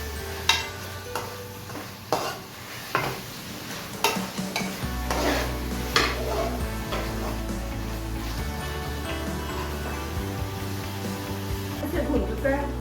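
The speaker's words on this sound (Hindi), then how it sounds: "अब हम इसको अच्छे से मिक्स कर लेंगे।" Chopped bottle gourd stirred in a frying pan, a spoon scraping and clinking against the metal pan over a soft, steady sizzle, with scattered knocks and a low hum throughout.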